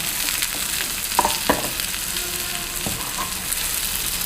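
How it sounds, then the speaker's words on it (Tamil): Fish curry with coconut milk being gently turned in a pan, a soft continuous sizzle with a few light scraping knocks of the spoon against the pan, close and moderately loud, no talking. "இதை அப்படியே நம்ம லைட்டாக லைட்டாக பிரட்டி குளிச்சு விடணும் உடைக்காமல்"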